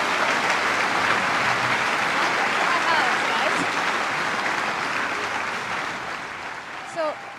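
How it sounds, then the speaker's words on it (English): An audience at a large event gives a welcoming round of applause, a thick wash of many hands clapping that holds steady and then slowly thins and fades toward the end. "So Marina Worre, give her a round of applause, everybody."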